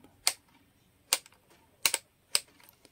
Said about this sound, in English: The selector makes an assured click every time it moves into position.